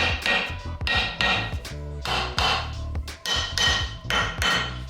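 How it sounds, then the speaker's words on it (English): Metal taps seat a turbo T-bolt clamp during a Powerstroke 6.0 turbo rebuild, a series of sharp close knocks and clinks in an uneven rhythm, several strikes coming in quick succession with brief ringing between them. "once the T-bolt is tightened up like 50 inch-pounds or so, just give it a last couple taps"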